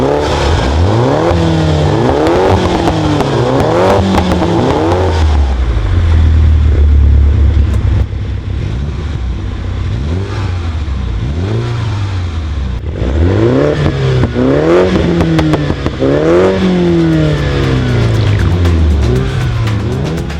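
MINI Cooper sport exhaust with the valve open, roughly a 76mm straight pipe, revved repeatedly, loud rising and falling engine sweeps in quick bursts, a steadier idle stretch in the middle, then more revving.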